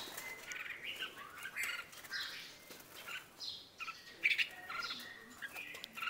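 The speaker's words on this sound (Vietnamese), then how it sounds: "Chim má trắng mà phải nói là tục dã man thiệt." Caged white-cheeked red-whiskered bulbuls give bright, repeated chirps and short calls amid wing flutters and cage rustling, moderately close with no talk.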